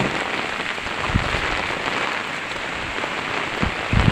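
Heavy rain pours steadily, a dense close hiss with a few low thumps of drops striking a surface.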